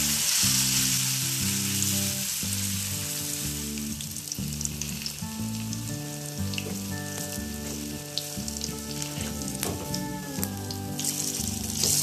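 Onion fritters (peyaji) frying in hot oil give off a loud, steady sizzle that runs unbroken from start to finish, with a low rhythmic hum beneath it and no voices.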